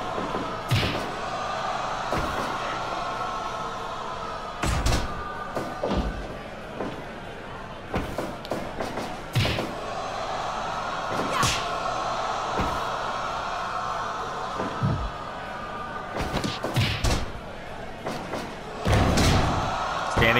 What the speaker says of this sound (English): Slam. Double axe into the back.